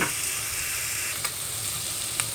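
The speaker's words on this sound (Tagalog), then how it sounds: "I-brown lang natin ng konti ang ating sibuyas at ang ating garlic." Onion and garlic brown in a hot pan with a steady, close sizzle of frying, broken by a couple of faint utensil taps.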